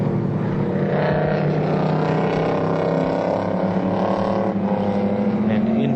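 A Ford GT touring car races through a pair of small right-hand bends at Warwick Farm in 1973, its engine a steady, loud roar under continuous race commentary.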